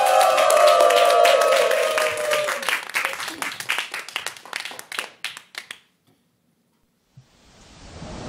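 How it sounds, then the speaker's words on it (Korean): Audience applause in a Korean singing class: loud, dense clapping that thins into a few scattered, rhythmic claps, then stops into near silence before a soft swell of noise returns. "박수"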